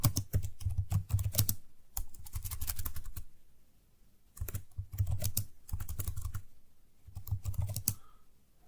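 Rapid typing on a computer keyboard while entering a command, with close, crisp clicking in several quick bursts separated by short pauses.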